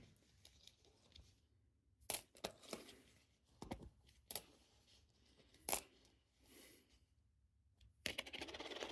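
Copper coins, including Canadian cents, clink and drop one at a time while being sorted by hand, with short metallic taps spaced irregularly and a rustle of handling near the end.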